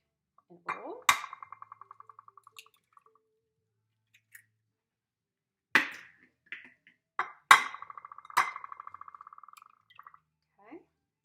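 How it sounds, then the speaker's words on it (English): Two eggs cracked into a bowl, a few sharp taps and cracks in separate bursts with quiet gaps between them, close and clean with no voices. "I have 2 eggs that I'm going to crack in a bowl."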